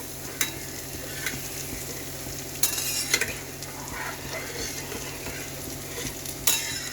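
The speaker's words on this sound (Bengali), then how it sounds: "এই যে জল দিয়ে দিলাম, সুজিটা একটু ভালো করে সেদ্ধ হবে।" Semolina simmers in a pan after water is added, and a spoon scrapes and stirs it over a low, continuous bubbling sizzle. A few sharper clinks of utensil on metal stand out, and there is no speech.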